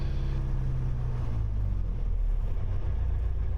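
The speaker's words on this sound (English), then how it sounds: "All the way back to check it idles." A light aircraft engine idles during a pre-flight power check, a steady, close, low droning rumble with no talk.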